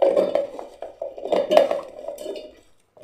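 Chopped tapioca pieces drop into a mixer grinder jar, giving a run of close hard clinks and clatters in uneven bursts that fade out briefly before one last knock.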